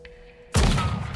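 A single loud rifle shot in Weird West cracks sharply after a quiet ambient pause, followed by a booming, reverberant tail.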